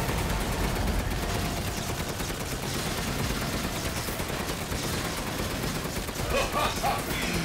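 Sustained gunfire in Resident Evil Village, a dense, loud, continuous barrage of rapid shots and impacts filling the whole stretch, with a voice faintly under the din.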